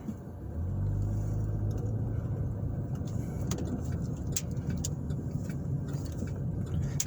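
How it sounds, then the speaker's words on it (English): Steady interior rumble of a car driving through the west side of South Bend, Indiana, with a low engine drone, road noise and occasional light clicks, no talk. "I will be driving through the west side of South Bend"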